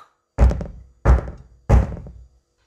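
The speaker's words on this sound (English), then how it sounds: "And on the dark door, he knocked with a dark knock." Three heavy, evenly spaced knocks on the dark door of a hut, each a solid thump with a short decay, close and alone with no other sound.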